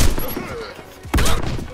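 A VEPR rifle fires in rapid automatic bursts in the Warface Halloween 2017 event: loud, close gunfire at the start, a brief lull, then another heavy burst.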